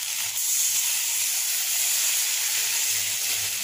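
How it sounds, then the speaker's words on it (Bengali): Water poured into a hot pan of fish curry gives a steady, close hiss and sizzle that lasts the whole moment, with no talking. "এবার পানি দিয়ে দেবো"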